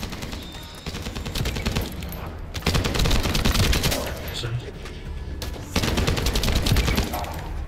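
Continuous heavy gunfire in the video game The First Descendant rattles in dense bursts, loud and close, with brief dips between volleys and a voice now and then beneath the shooting.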